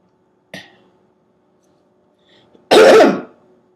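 A man clears his throat during a dramatic reading: a short faint rasp first, then a loud, gruff throat-clearing burst close to the microphone after a quiet pause.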